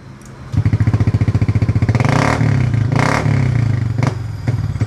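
A Honda Beat fuel-injected scooter engine revs up loudly and close by, its throttle response hesitating and uneven as the pulsing rhythm rises, wavers and dips, with a faint clatter underneath and no talking.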